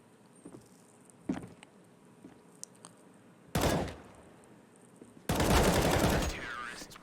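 Gunfire in a professional Counter-Strike match on the Cache map between FURIA and ENVY at IEM Katowice: scattered faint shots and footsteps, then two loud rapid bursts of automatic fire, the second longer and sustained.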